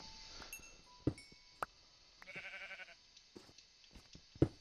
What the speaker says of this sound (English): Sheep is just eating all the grass up here.